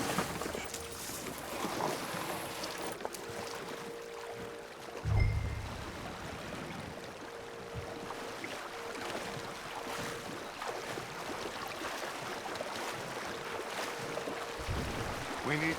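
Canoes paddled across calm water at night in Red Dead Redemption 2, soft lapping and gentle paddle splashes under a steady wind-like ambience, with a few brief louder strokes and quiet talk.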